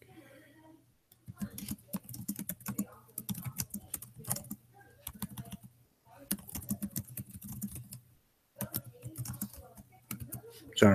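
Rapid bursts of computer keyboard typing, close and fairly quiet, coming in several runs separated by short pauses, with someone talking over parts of it.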